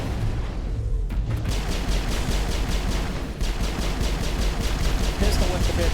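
Rapid gunfire from a video game shootout rattles in dense, repeated bursts of sharp shots, loud and continuous, with a brief pause near the start and an excited voice shouting over the fire.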